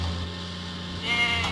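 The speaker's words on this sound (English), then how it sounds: "Salty must deliver the goats to Farmer McCall's farm. Help Cranky find the goats." Goats bleat briefly in a Thomas and Friends lift-and-haul video game, a short wavering cry rising near the end over a steady low background hum.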